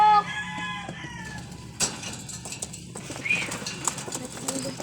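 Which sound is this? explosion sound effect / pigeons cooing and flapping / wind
pigeons cooing and flapping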